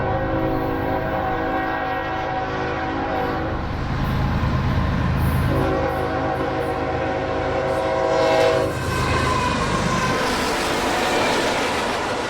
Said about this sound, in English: Our first train of the day was a true Hunter Harrison special, with one locomotive up front, mixed freight, random auto racks,